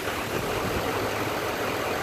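A 2013 GMC 2500 with a 6.6L Duramax diesel settles into a steady, even idle, a continuous broadband rumble at constant loudness with no distinct start burst.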